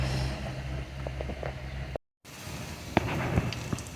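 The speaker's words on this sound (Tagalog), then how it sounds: "nagpipirito na tayo sa low fire" Lumpia filled with bamboo shoots frying in oil over low heat, a soft continuous sizzle with scattered small pops and crackles, briefly cut by a gap of silence midway.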